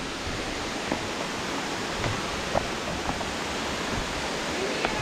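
Steady broadband rush of a waterfall, Tad Yeuang in Laos, constant and fairly close, with a few faint clicks and knocks scattered over it.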